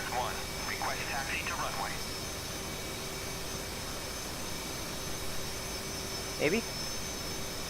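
Steady F/A-18C jet engine idle in DCS World, a constant broadband whine with a tonal hum running under brief talk near the start and a short voice blip near the end.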